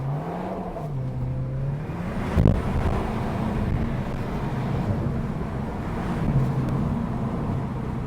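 A Cupra 290 engine accelerating hard from inside the car, a loud droning roar with rising pitch, a quick dip at a gear change, then a steady strong pull.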